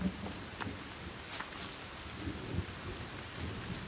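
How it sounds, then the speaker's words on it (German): Steady rain hisses with low rumbles of thunder rolling underneath, heard alone without any voices, in the video game The Forest. "Oh, es regnet mal wieder."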